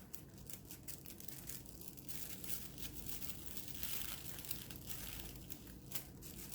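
Tissue paper wrapping around a floral junk journal being crinkled and peeled open by hand, continuous close rustling and crumpling with small tearing bursts, soft and steady throughout.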